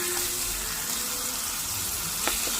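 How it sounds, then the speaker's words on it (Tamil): Steady sizzling of garlic frying in hot oil, a constant crackling hiss with a few faint clinks, no voices. "உள்ளி கொஞ்சம் பொரிக்கணும்."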